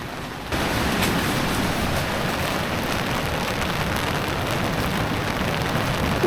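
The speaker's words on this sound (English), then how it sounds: "As you can see how hard it's raining." Heavy rain falls on a tent at the seaside, a dense continuous patter that comes in abruptly and holds steady, close and fairly loud with no voices.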